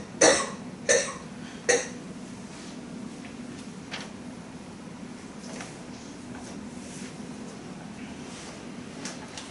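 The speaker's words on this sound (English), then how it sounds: "I'm sorry, this makes me cough." During a mathematics lecture, a speaker troubled by chalk dust in the air coughs three times in quick, close succession, then the room settles into quiet with faint shuffling and no speech.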